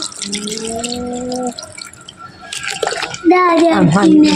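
Water is poured for making tea while several people talk over it, with soft dripping and splashing underneath the voices.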